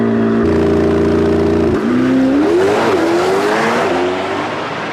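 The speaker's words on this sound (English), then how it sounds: "Just point it straight and watch the tree and hang on for the ride." A Corvette ZR1X production car launching down a drag strip, engine roaring loud and close as it revs, rising in pitch through a shift before fading slightly.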